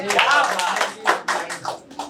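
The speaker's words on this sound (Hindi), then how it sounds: "दोबारा पे तेज बननी चाहिए थी ताली।" A live poetry audience breaks into brief applause, a short burst of clapping with a voice speaking over it.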